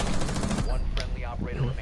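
Rapid automatic gunfire in Rainbow Six Siege, a fast burst of sharp shots in the opening second, followed by a few scattered cracks as players talk over it.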